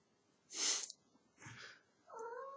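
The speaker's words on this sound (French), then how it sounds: "Ça c'est le chat, le pauvre chat." A cat gives three short, close cries in a row, the first harsh and wheezy, the next two softer and more tonal, with quiet gaps between them.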